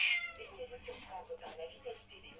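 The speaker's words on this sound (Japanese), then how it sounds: "今猫ちゃんがね、横にいるんですよ。" A pet cat meowing nearby indoors, with several soft, drawn-out meows repeating across the moment over a quiet background.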